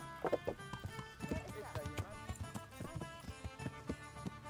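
A horse in the video game Kingdom Come: Deliverance clops along in a steady hoof rhythm with an occasional whinny, mixed with game music and someone talking over it.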